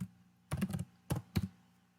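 Computer keyboard typing during a Python setup in VS Code on Windows 10: three short, close bursts of keystrokes separated by brief quiet gaps.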